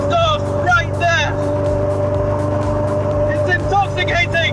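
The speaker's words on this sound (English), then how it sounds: "What I do love though is the noise from the exhaust right there." A home-built DIY kit car's exhaust rumbles with a low, steady engine drone during a first drive, loud and close inside the cabin, with someone talking over it.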